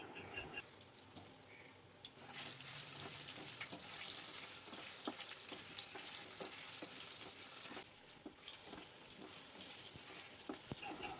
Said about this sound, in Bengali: এবার আলুগুলোকে ভেজে নিচ্ছি।